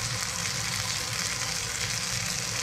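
Fish slices dry-frying in a pan over high heat give off a loud, steady sizzle that carries on without a break and with no voices.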